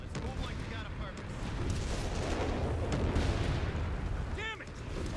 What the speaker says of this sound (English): Damn it! Artillery fire!